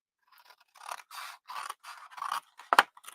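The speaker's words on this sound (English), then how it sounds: "And then I'm going to cut from the corner to the corner and then trim this about in half." Scissors cutting and trimming material corner to corner for a honeybee hive project, a series of close crisp snips in an uneven rhythm with one sharper final cut.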